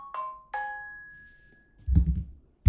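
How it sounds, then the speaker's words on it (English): A Samsung phone plays its notification sound: two quick bright chimes, the second ringing on for about a second before fading, followed by a dull thump close by. "I'm tired of Samsung notification shit"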